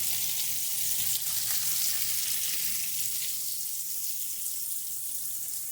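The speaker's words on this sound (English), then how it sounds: "And that's why the bacon's sauteing." Bacon sautéing over medium-high heat in a pan for Hungarian goulash, a steady broadband sizzle that holds evenly throughout with no voices.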